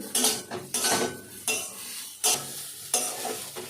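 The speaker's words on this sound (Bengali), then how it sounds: "সামান্য হলুদ দিচ্ছি, দিয়ে একটু নেড়ে নিচ্ছি।" A spoon scrapes and stirs soybean korma in a pan as turmeric is mixed in, making about five distinct rhythmic strokes against the pan over a continuous sizzle.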